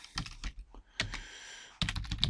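Quick bursts of typing on a computer keyboard, clusters of sharp close clicks separated by short pauses, quiet and without talk.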